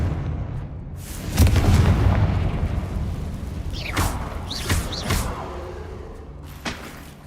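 Confringo explosion spell in Hogwarts Legacy, a deep rumbling boom that swells and slowly decays, followed by sharp magical whooshes and crackles, fairly loud.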